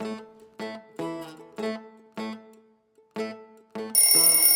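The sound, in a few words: mobile phone ringing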